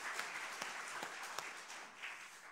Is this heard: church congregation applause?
yes